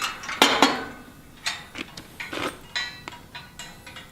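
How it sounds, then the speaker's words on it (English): Metal U-bolts slid through a steel roof bar on a hay ring cover, giving a handful of sharp clinks and scraping metallic knocks, close and fairly loud with short gaps between them. "Just put the U-bolts through."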